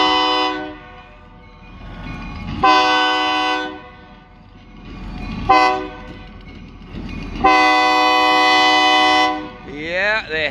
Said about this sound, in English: we got a freight train rolling south, probably just an engine